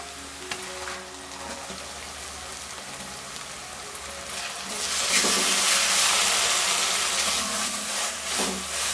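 Coconut paste hits a pan of sautéed onions for a mutton boti curry and breaks into a loud, steady sizzle that swells partway through and keeps crackling close by.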